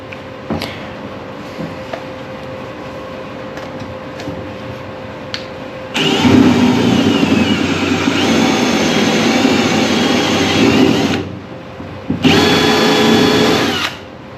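A spot weld cutter bit drilling out a center-punched spot weld on a Bronco body during restoration, a loud close whining power drill running for about five seconds, pausing, then starting again, after quieter shop noise.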